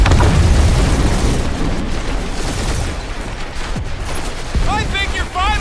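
A frag grenade blows up during a ship fight in Marvel's Guardians of the Galaxy, loud booming blasts among continuous gunfire-like bursts, with voices talking near the end.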